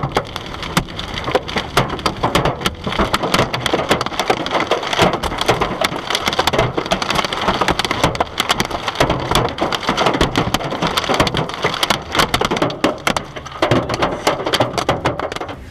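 Dense, relentless clattering of hailstones striking a car, loud and continuous with rapid irregular impacts throughout.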